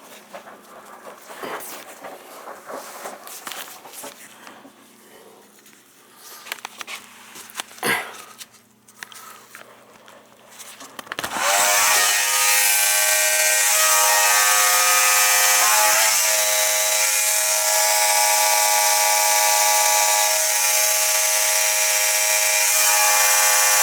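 A small water pump starts up and runs steadily, drawing water out of a bucket as part of a zone valve heating setup, a loud continuous whine after some earlier quieter handling noises.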